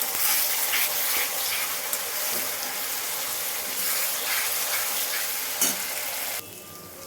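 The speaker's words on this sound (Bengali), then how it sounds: "এবার এর মধ্যে আমি জিঞ্জার গার্লিক পেস্ট দিয়ে দেবো। দিয়ে আমি ভালোভাবে এটাকে কষিয়ে নেব।" Ginger garlic paste fries and sizzles steadily in a pan while being stirred, a dense close hiss with occasional scrapes that drops off near the end.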